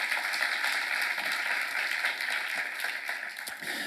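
Church congregation applauding during a Korean sermon seminar, a steady broadband wash of hand clapping held at an even moderate level throughout, somewhat distant and without speech.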